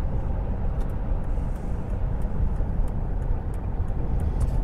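A car drives steadily on the M20 motorway between junctions 8 and 9 near Leeds and Ashford, heard from inside as a loud, continuous low road and engine rumble with tyre roar and no speech.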